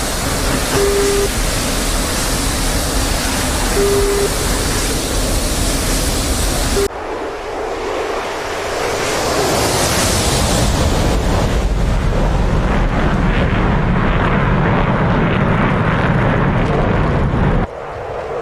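Loud, roaring jet engines of a military aircraft in the DCS World flight simulator, a steady broadband blast that shifts in tone partway through and holds at full volume to the end, with no talk.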